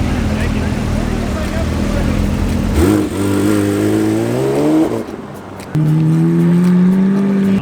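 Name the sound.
Aston Martin V12 engine note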